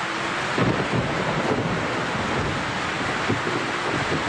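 Steady rain pours around a stalled car, a dense continuous hiss with gusty rumbling swells, loud and close, with no voices.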